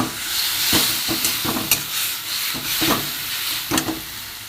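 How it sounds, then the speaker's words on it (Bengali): Green chili, garlic and ginger paste with spices stir-frying in a pan for a minced-meat ghugni, a steady hissing sizzle with a few sharp scrapes and clicks of a spatula, close and alone. "এইটা আমি ঢেলে দেবো। এতে একটু কষিয়ে নেবো মশলাটা"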